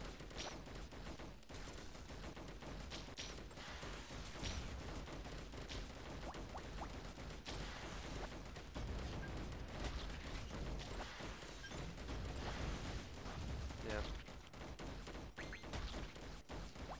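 Heavy guns fire continuously in the tower-defense video game Defend Your Life, a dense, loud barrage of shots and impacts running throughout with no pauses.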